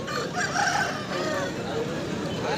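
Roosters crowing amid the clucking and din of a busy chicken market, several calls overlapping over steady background crowd noise and faint talk.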